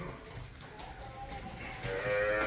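A Danish crossbreed dairy cow, a recent mother in a farmyard, gives a low mooing call over steady background noise, rising louder toward the end with no one speaking.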